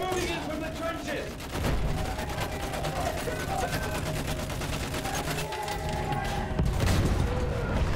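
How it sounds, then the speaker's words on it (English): Sustained machine gun fire with overlapping gunshots and booms fills a Battlefield 1 World War One battle, a dense continuous barrage at close range. "I get blasted by a machine gun."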